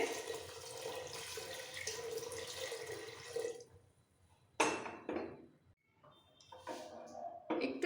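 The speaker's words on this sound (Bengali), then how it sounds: "এবার সেদ্ধ হওয়ার জন্য একটু বেশি করে জল দিতে হবে" Water pours into a pot of dalia khichuri with potato, carrot and radish, a close, splashing stream for several seconds, then a few shorter bursts and clinks of the pot.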